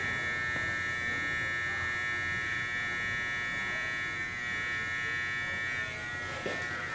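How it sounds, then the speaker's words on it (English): Constant close buzzing hum of electric hair clippers working a shadow fade, steady and unbroken with slight tonal shifts as the blade moves. "I'm gonna have this part of the clipper come up"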